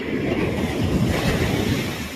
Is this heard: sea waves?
yes